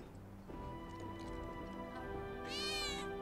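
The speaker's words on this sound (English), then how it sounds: "did you hear that just now? I think one of Betty's cats might be nearby" A cat meows once near the end of a stretch of game music and ambience in Final Fantasy VII Remake, a short rising call standing out over the steady background.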